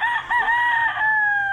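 A White Kelso gamecock rooster at a game farm gives one loud, close crow, clear and drawn out, with no other sound around it.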